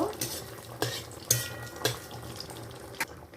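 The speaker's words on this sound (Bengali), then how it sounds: "এক চামচ আমি সাদা জিরে দিয়ে দিলাম গোটা জিরে এটাকে একটু ভালো করে ফোড়নটাকে নেড়ে নেব" Whole white cumin seeds stirred in hot oil for tempering, a spoon scraping the pan in a few sharp strokes over a steady low sizzle, close and alone.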